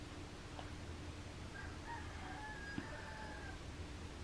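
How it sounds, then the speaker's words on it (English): A neighbouring rooster crows once, faint and distant, the drawn-out call rising over a steady background hiss with no one speaking. "Do you hear that rooster? That is not our rooster. It's the neighbor's rooster."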